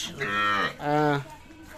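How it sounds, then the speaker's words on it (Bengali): Two long, loud cow moos in quick succession, close by, with a quieter rumble trailing after, at a cattle market in Dinajpur, Bangladesh. "আমরা সব গরুগুলো নিয়ে আপনাদের কিছু তথ্য দেবো আর এগুলো সবগুলো কালেকশন আমাদের আতাউর ভাইয়ে"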